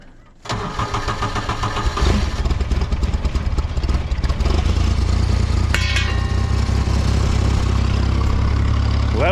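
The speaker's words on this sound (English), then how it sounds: "I hear the pump." A motor kicks on abruptly after a quiet moment, then holds a loud, steady mechanical drone with faint clatter for several seconds, close to the microphone.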